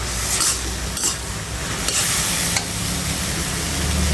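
Snake gourd frying in a pan with cumin powder, a loud continuous sizzle broken by several scraping stirs of the spatula, no voices.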